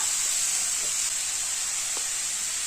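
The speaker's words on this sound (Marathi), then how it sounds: "आपल्याला फक्त 2 ते 3 मिनिटच फक्त आपल्याला ह्या भाज्या परतून घ्यायच्या आहेत" Mixed vegetables stir-fry in a pan over high gas, a constant bright sizzling hiss close up and unbroken throughout, with a couple of faint clicks of stirring and no voices.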